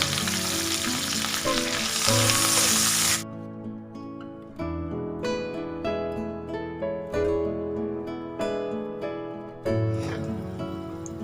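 Dry red chillies, mustard seeds, curry leaves and garlic hit hot oil, a loud close burst of sizzle for about three seconds, then tonal clinks and lighter crackling carry on for the rest, with no voices.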